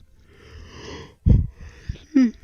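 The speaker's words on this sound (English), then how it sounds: "I knew that yawn was coming" A streamer's yawn during a live fantasy football broadcast: a drawn-out breathy exhale building to a loud burst near the middle, followed by a short gasp and a final voiced rising sigh.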